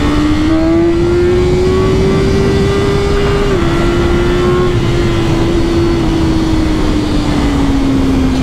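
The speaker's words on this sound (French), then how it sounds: "Je suis tellement amoureux du 4 cylindres moi." A BMW S1000R four-cylinder motorcycle engine accelerates steadily with a loud, smooth high-pitched whine that climbs, dips briefly at a shift, then holds and eases slightly, steady and close throughout with no talking.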